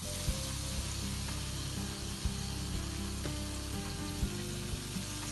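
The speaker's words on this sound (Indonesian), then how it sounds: "Goreng sampai kuning ya, sampai garing, sama dengan goreng pisang gitu ya, sampai garing baru angkat ya." Mushrooms and cakwe crackle and sizzle in hot oil, a dense, continuous close-up frying hiss with small pops and occasional clinks of a utensil, no voices.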